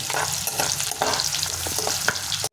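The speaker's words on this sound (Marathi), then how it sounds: "कांदा टाकला तेलामध्ये आणि थोडंसं त्याला भाजू द्यायचं" Chopped onion frying in hot oil, with a steady, close sizzle and occasional stirring scrapes that continue evenly throughout, with no voices.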